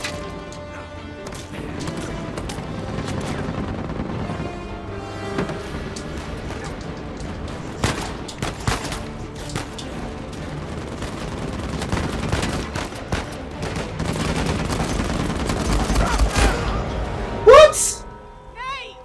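Gunfire from the video game Uncharted 4, with dense, repeated shots and bursts running steadily under music and game effects, a few sharper cracks standing out, and a loud impact near the end.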